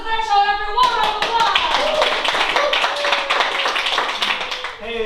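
Applause from an improv show audience, dense rapid clapping that starts abruptly after a brief voice and fills the room steadily for several seconds, tapering near the end.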